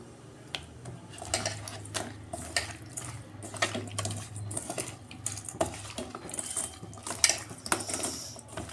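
Pabda fish are rubbed and washed by hand to clean off dirt, with wet squelching, splashing water and small knocks against a metal bowl in an irregular, close-up rhythm.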